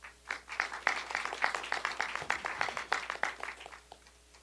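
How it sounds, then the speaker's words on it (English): An audience at an idea pitch competition gives a presenter a round of applause: dense, steady clapping from a moderate-sized crowd that fades out toward the end. "please, a warm round of applause"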